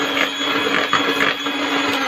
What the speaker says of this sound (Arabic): هضربها كويس جدا مع بعض بالمضرب الكهربائي بتاعي